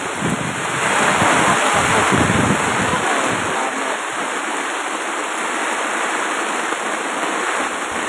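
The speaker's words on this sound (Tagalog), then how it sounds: "Nisulod na ang tubig sa among tin" Water rushes and splashes into a tent at a campsite, a loud, continuous broadband wash with wind buffeting the microphone, a heavier surge early on and then a steady roar.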